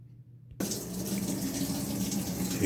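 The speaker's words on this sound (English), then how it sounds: "Here we are, water started to run" A washing machine begins filling with hot water on its clean washer cycle, a steady hissing rush of running water that starts abruptly and continues at an even level, fairly quiet, with no talking.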